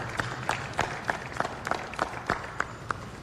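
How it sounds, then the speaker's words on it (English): Scattered hand claps ring out against a baseball stadium crowd murmur, sharp individual claps at a loose rhythm rather than a full ovation. "Let's hear a round of applause for the Durham Bulls"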